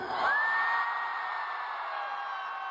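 Concert crowd at a pop show in Kuala Lumpur screaming on cue, a loud sustained wall of shrieks and whoops from a large audience that swells quickly then holds steady, with one piercing voice standing out.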